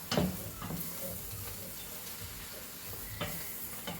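Food cooks quietly in a pan on a farm kitchen stove, a soft continuous sizzle with a few sharp stirring knocks near the start and end, faint and unaccompanied by talk.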